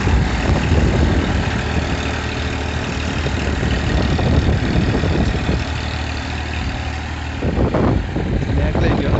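Massey Ferguson 1035 tractor straining to pull a cultivator through deep sand, its engine labouring continuously with surging low rumble and bursts of effort, close and loud throughout.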